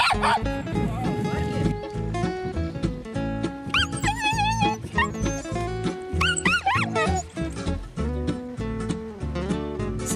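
A Karelo-Finnish laika yips, whimpers and barks in short excited bursts over continuous music, with occasional quiet talk in the background.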